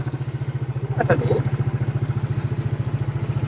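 A Rusi Adventure X 150i version 2 motorcycle idles close by with a steady, even putter, and a brief clatter sounds partway through.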